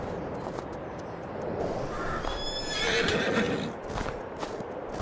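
Horses in Farming Simulator 22 whinny loudly over a steady bed of clip-clopping hooves, the neighs rising in a drawn-out burst midway through, with no talk.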